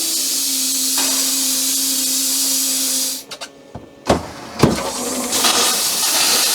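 Compressed air at 40 psi blows out the water lines of a Cougar fifth wheel RV trailer: a loud continuous hiss with a low tone cuts off, then sputtering bursts and pops of air and water follow before the hiss resumes.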